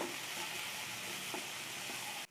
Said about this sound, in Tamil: இதெல்லாம் சேர்த்து நல்லா கலந்துக்கலாம்.